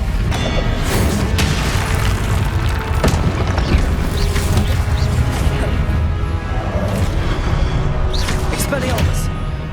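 Fiery Confringo blast spell exploding in the video game Hogwarts Legacy, heavy booming impacts and crashes over constant loud battle noise and whooshes throughout.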